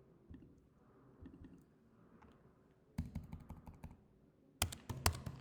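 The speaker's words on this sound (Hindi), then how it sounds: "इधर मैं लिख देता हूँ" Typing on a computer keyboard, quiet at first, then two bursts of rapid, close clicking keystrokes, with no talking.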